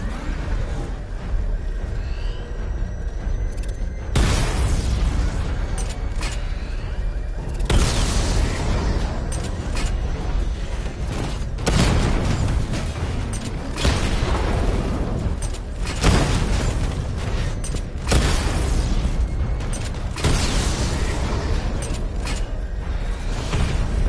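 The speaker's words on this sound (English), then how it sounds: "Charge up missile barrage to level 2 and destroy 4 active targets to complete diagnostic test." A missile barrage in Batman: Arkham Knight sets off repeated explosions, loud booming bursts arriving every few seconds with mechanical whirs and rumbles in between, and no talking.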